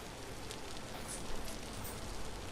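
Steady rain pattering throughout in the survival game Vintage Story, a constant hiss that fills the whole stretch with faint droplet ticks and no voices.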